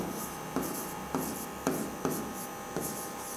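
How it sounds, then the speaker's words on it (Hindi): Pen writing on paper up close, a soft continuous scratch broken by about six light taps or stroke starts at uneven intervals, faint and with no voice. "तो चलिए लिखते हैं, इसको सही करके लिखते हैं"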